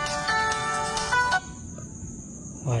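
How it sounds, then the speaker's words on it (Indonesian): A mobile phone rings inside a hot sack factory room in East Java, a bright repeating electronic tone that sounds for over a second and then stops, leaving quieter room noise. "Dan HP ku bunyi."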